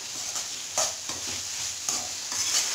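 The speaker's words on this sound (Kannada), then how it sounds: "ಚೆನ್ನಾಗಿ ಫ್ರೈ ಮಾಡ್ಕೊಳ್ಳೋಣ ಕೈಗಿಟ್ಕೊಂಡು" Brinjal frying in a pan with salt and turmeric, a bright continuous sizzle punctuated by a few spoon scrapes as it is stirred, close and without voices.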